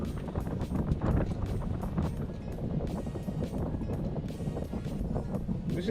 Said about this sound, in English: Bro, this wind is really getting on my nerves right